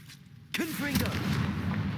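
A Confringo blasting spell from the Hogwarts Legacy video game fires as a sudden loud boom, then a crackling, rumbling burst trails off over about a second and a half.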